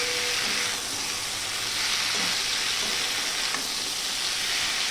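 Soybean chunks fry and sizzle with spices in a pan over a high gas flame, a steady hiss with occasional scraping stirs, continuous and close.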